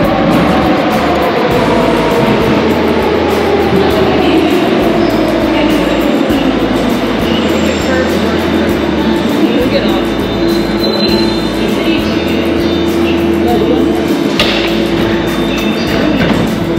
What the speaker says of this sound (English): So when the subway comes, we'll film, and just to show you the inside of it.